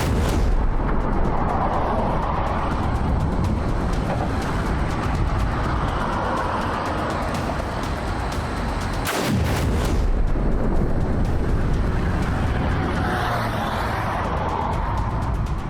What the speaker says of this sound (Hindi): ऐसा धमाका जिससे हिल गई धरती।